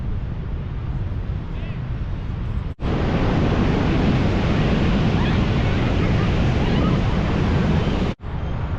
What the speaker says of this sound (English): This is a very, very long beach